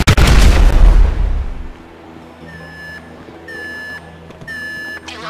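A heavy explosion rumbles loudly at the start of a GTA 5 heist mission, then fades into a repeating electronic alarm that beeps in steady bursts over a low ambient drone.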